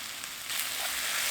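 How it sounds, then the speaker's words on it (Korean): Fish cake and onion stir-frying in a few spoonfuls of oil, a dense, bright sizzle that holds steady and swells slightly partway through, close by and with no voices. "어묵 볶아주세요."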